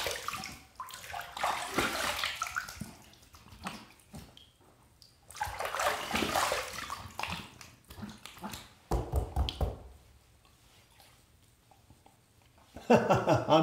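Water splashing and running as a razor and face are rinsed after a shave, in several bursts of splashing and trickling separated by short quieter gaps, close up.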